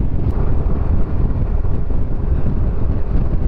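Strong wind buffets the microphone while a motorcycle is ridden, a loud, low continuous rumble with gusting roughness and no clear voices.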